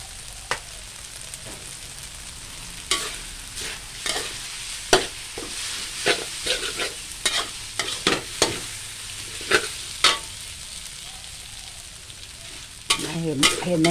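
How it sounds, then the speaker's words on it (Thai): Tofu and egg stir-fried with holy basil in oil in a wok, giving a steady low sizzle broken by sharp scraping and clanking spatula strokes, with a louder burst of frying near the end. "ยายก็เลยเอามาผัดกินกะเพราไป"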